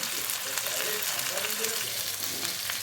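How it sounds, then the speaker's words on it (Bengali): Tandoori chicken marinated and roasting on a flat tawa brushed with butter gives off a steady, soft close-up sizzle that holds at an even level throughout, with no talking. "এখানে আমি এখন তাওয়াতে বাটার ব্রাশ করে এটাকে রোস্ট করছি"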